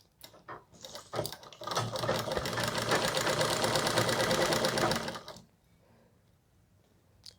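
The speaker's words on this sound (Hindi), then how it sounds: "ये देखिए, एक चाप कपड़ा लेते हुए मैं स्टिच कर रही हूँ।" A sewing machine stitches a folded strip of cloth in a fast, rattling run of needle strokes lasting several seconds, preceded by a few short starts and ending abruptly, close and fairly quiet.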